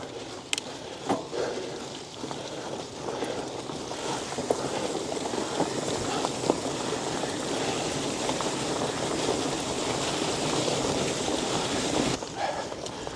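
A woodland stream flows steadily in winter, a broad continuous rushing wash of water with some wind noise, no talk.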